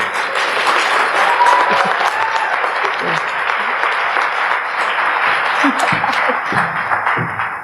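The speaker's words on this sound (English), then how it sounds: "Let's give a round of applause, everybody." A seminar audience applauds steadily for a career talk, dense continuous clapping at full volume throughout, with a few brief voices underneath.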